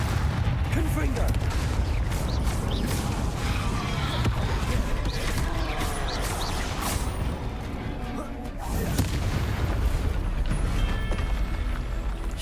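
Confringo blasting spell explosions in Hogwarts Legacy, with repeated muffled booms and crackling impacts under constant combat noise at moderate loudness, with speech mixed in.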